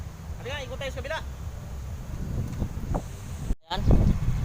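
Gusty wind buffets the microphone in a steady low rumble on a ride around Quezon City Circle, with a person talking briefly over it and a loud blast of wind near the end.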